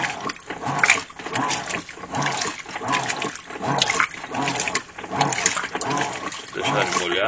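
Water splashes in pulses over an Ariel Pods detergent capsule held in a hand, trickling and spattering near the source, while a person talks throughout.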